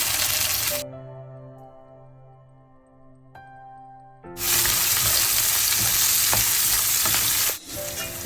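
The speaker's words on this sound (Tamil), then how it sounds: "இன்னும் கொஞ்சம் நேரம் இந்த வெங்காயம் வதங்க வேணும்" Sliced onions with cinnamon, cloves and cardamom frying in oil in a pan for mushroom biryani, a loud sizzle that drops to a quiet hum with a clink in between, then surges back strongly before cutting off.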